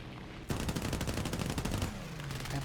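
Rapid machine-gun bursts from the M2 guns of a P-26A-34 fighter in War Thunder, dense rattling fire starting abruptly after a half-second of engine drone and continuing loudly over a steady engine hum.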